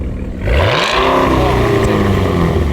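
A super SUV's engine revs hard and loud, its throaty roar climbing in pitch and holding steady close by, with a voice speaking over it.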